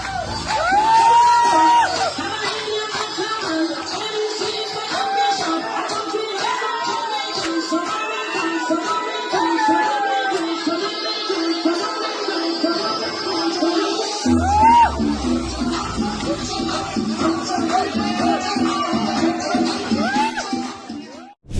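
A party crowd at a five-star hotel whoops and shouts over loud dance music with singing, a dense, continuous celebratory din that carries on for the whole stretch.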